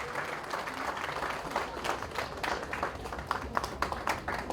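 An audience at a Mumbai Police event breaks into sustained applause, a dense patter of many hands clapping at moderate distance with no talk over it.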